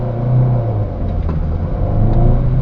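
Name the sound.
Nissan Qashqai 1.6 accelerating away from traffic lights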